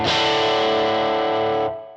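An electric guitar through the Universal Audio Ox's open-back 10-inch speaker emulation, voiced like a small amp. One distorted chord rings out loud and sustained for about a second and a half, then is cut short.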